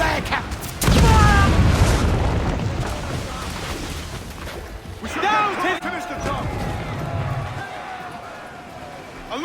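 Ship cannons fire in a naval battle in Assassin's Creed IV Black Flag, a heavy low boom at the start rolling into rumbling blasts, with shouted crew voices calling out over the battle noise.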